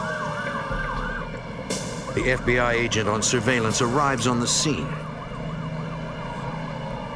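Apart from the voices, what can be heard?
ambulance siren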